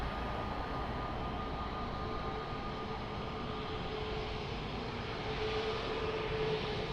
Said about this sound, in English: And he's still in reverse thrust as well.